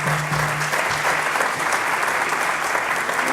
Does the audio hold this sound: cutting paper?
no